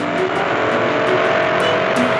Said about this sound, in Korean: 굉음과 비슷한 엔진 소리가 들립니다.